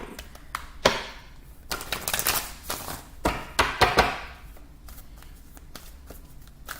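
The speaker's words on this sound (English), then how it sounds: "Shuffling." Cards are shuffled in quick riffling bursts, with crisp flutters and taps close by, pausing briefly between shuffles.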